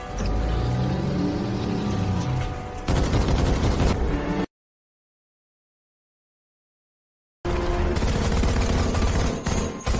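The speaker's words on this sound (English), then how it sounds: "AP rounds and missiles are useless. Keep firing!" Dense, continuous gunfire and explosive rumble from mobile armor and weapons firing at a giant monster, loud and chaotic, cut off by a few seconds of total silence before the barrage resumes.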